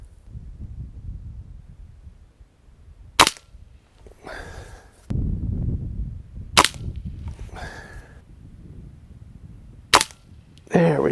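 A Diana AR8 N-TEC .22 air rifle fires three sharp, loud cracks spaced a few seconds apart while shooting off sticks. Low rumbling handling noise fills the gaps between shots.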